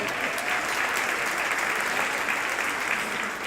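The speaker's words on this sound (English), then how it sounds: "please give all the organizers of this chapter, please, a huge round of applause" An audience gives the chapter organizers a steady round of applause at an organization's event, dense and even clapping filling the whole short stretch.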